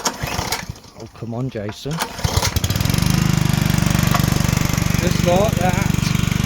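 A ride-on lawn mower engine with a hole in its deck, set on choke, starts up partway through and settles into a loud, steady running drone, with people talking close by over the start.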